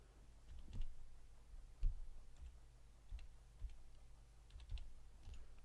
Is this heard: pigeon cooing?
no